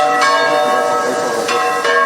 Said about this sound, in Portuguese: repicaram os sinos da Catedral Basílica, da Igreja de São Domingos e de Nossa Senhora do Rosário dos Pretos